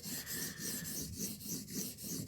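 A knife edge scrubbed back and forth on a short KME sharpening stone, a steady rasping stroke repeating about every half second, close and fairly loud with no talking.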